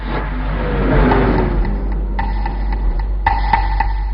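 A nearby car engine starts and revs, its pitch rising and falling in a short sweep before settling into an idle, over a constant low hum and a few light clicks.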